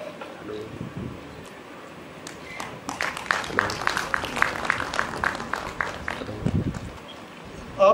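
Applause at a conference felicitation ceremony, where a memento is presented to an honoured guest at an annual state minorities commissions conference; scattered claps swell into a denser round partway through, moderately loud in a large hall.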